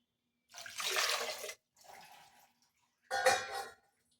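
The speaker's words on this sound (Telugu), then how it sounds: "వాటర్ అయితే వేస్తున్నాను కుక్కర్లో." Water poured into a pressure cooker in a home kitchen while a simple curry is prepared: three short splashing pours with brief pauses between them, close by, with no talking.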